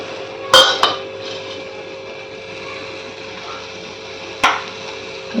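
Fresh cashew nuts are tipped into a pan while cooking a cashew and pea usal, giving two sharp clattering hits near the start and another a few seconds later over a low steady hum.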